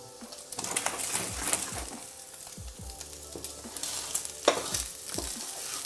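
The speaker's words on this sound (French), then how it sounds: "J'ai mes lardons qui sont bien grillés." Bacon lardons frying and being stirred in a pan, with a steady sizzle broken by repeated scraping strokes of a utensil against the pan, close by and with no talking.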